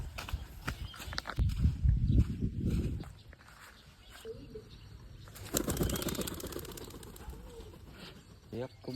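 Pigeons burst into flight nearby in two loud flurries of flapping wings, with quieter shuffling between them and a voice speaking in the background.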